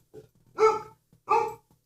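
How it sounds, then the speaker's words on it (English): A dog barks twice, nearby and fairly loud, with a short pause between the two sharp barks and faint background noise. "Now my dog's barking."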